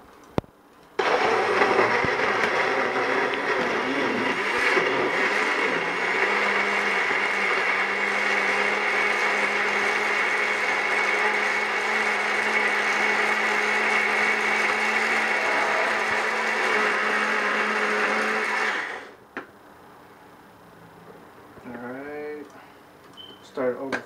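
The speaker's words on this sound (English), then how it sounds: "Man, this magic bullet's a messy thing." A Magic Bullet blender grinds chile with other ingredients in a loud, steady whir that runs nearly twenty seconds before cutting off, followed by a few faint clinks and handling sounds.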